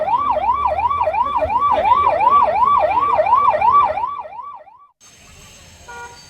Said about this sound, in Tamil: வெள்ளியங்காடு கிராமத்தில் பொதுமக்கள் பயன்பாட்டிற்காக இலவச ஆம்புலன்ஸ் சேவையை சட்டமன்ற உறுப்பினர் சுனில் ஆனந்த் கொடியசைத்